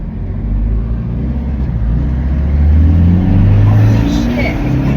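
A Toyota Hiace G300 van with a 1GD engine, turbo and uprated injectors accelerating from inside the cabin, a loud, steady low engine drone rising in pitch as it pulls, with voices talking over it.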